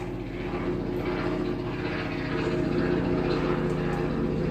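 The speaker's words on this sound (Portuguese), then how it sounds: "Hoje de manhã tem até helicóptero." A helicopter flying overhead produces a loud, continuous engine drone with a steady rotor thrum that dominates throughout, with no talk.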